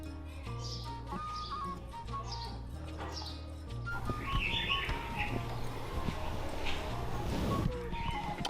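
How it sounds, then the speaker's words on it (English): Birds calling inside an indoor zoo aviary with hornbills, starlings and yellow-necked spurfowl: repeated chirps and calls over a steady low hum of the enclosure, moderately loud and close. "The birds in this aviary, by the way, are the Von der Decken hornbill, the suburb starling, and the yellow-necked spurfowl."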